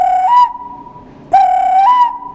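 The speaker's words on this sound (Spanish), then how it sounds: "Y es un pito de barro y suena así." A handmade clay whistle known as a Willow gives two loud, close blasts, each a steady reedy tone that steps up to a slightly higher pitch before stopping, with a short pause between them.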